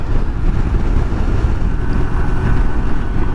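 Strong wind buffets a motorbike rider on the Pacific Coast Highway, a steady loud roar of rushing air with no break, and no voice over it.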